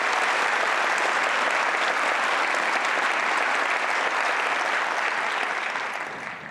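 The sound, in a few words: audience applause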